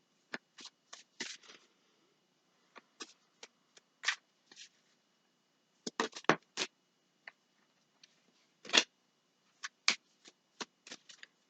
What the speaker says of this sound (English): I'm not going to sit here and shuffle, shuffle, shuffle, shuffle